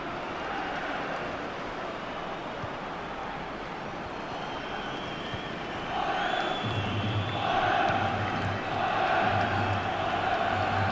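Stadium crowd in the FIFA 15 football game during a Europa League quarter-final, a continuous roar that swells louder partway through with rising chants and cheers.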